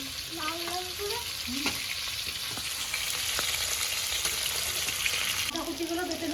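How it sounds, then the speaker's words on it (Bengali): Potatoes fry in oil for a chicken curry with a continuous sizzle and stirring scrapes, while people talk over them at the start and end. "কীভাবে ভাজবে আলুগুলো? লাল লাল করে না এমনি? লাল লাল করে।"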